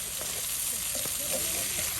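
Eggplant slices fry in a pan with a close, steady sizzle and a few brief stirring clatters.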